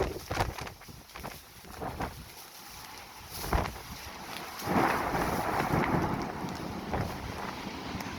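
Storm over Dubai before dawn, with steady rain and wind buffeting the microphone, broad rumbling swells of thunder rising mid-clip, continuous and moderately loud with no voices.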